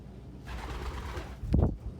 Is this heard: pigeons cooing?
yes